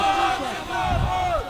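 Religious gathering crowd shouting a slogan in unison in response to a call, a loud massed roar of voices with rising and falling pitch swelling midway.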